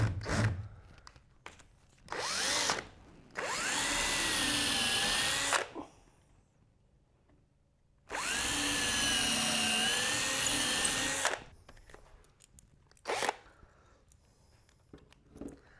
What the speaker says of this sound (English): Drill my pilot hole for the bolts, the lag bolts.